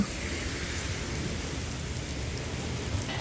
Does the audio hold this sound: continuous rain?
yes